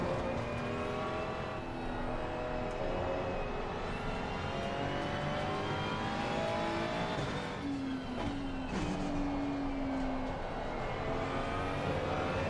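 A Ferrari race car engine roars in the Assetto Corsa Competizione racing game, continuous high revving with rising and falling pitch through gear changes and a brief tire squeal, loud and close with no talk.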